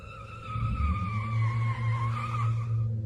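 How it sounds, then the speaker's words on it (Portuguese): A car skids on the road as a sound effect, with a loud, sustained tire squeal over a low engine rumble that lasts about three seconds and then cuts off. "O carro deslizou na pista"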